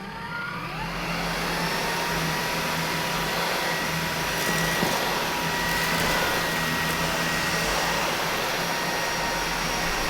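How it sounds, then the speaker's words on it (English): A NEQUARE cordless vacuum cleaner runs on its highest setting over carpet, a steady loud whirring roar with a constant motor whine that holds unbroken throughout, close by and with no voices. "we're going to use this on the highest setting"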